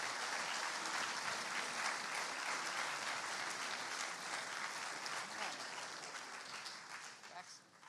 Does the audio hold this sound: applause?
yes